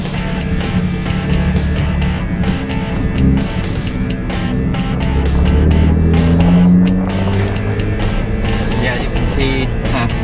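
A Ford F-150 Raptor with the 37 Performance Package drives off-road in Baja mode and four-wheel drive high, its engine droning loudly and steadily with rising and falling revs, while wind buffets and rattles break the sound up.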